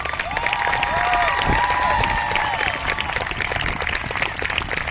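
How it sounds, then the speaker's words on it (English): A crowd at a racial justice march and teach-in in Grand Junction bursts into sustained applause mixed with whoops and high cheering shouts, loud and dense throughout. "I want to hear a round of applause for all the black women"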